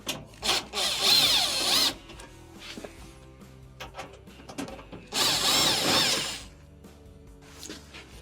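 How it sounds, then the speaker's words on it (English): A power screwdriver removes Phillips machine thread screws from the front panel of a clothes dryer during door switch repair, two loud whirring bursts of a few seconds each with quieter handling clicks between them. "Remove the 2 Phillips screws."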